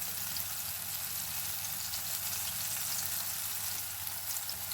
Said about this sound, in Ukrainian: бачу, що олійка кипить